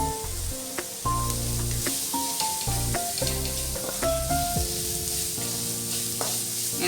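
Chopped onion fries in a hot pan for a Matar Paneer Masala, giving a steady sizzle and hiss broken by repeated knocks and scrapes of stirring.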